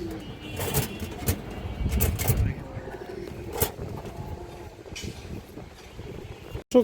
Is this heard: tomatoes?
no